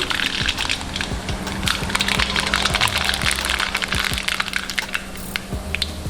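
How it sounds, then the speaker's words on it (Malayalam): Mustard seeds splutter and pop in hot oil for a Kerala-style clam pepper fry, a dense run of sharp crackles and snaps scattered irregularly throughout, close up and steady, with no voices. "നമ്മൾ കുറച്ച് കടുക് ഇടുന്നു."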